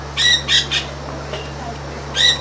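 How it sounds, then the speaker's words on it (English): A Catalina macaw in an aviary exhibit at Reptile Gardens in Rapid City, South Dakota gives three loud, harsh squawks in quick succession, pauses, then lets out one more close squawk over a steady low hum. "Got a Catalina macaw."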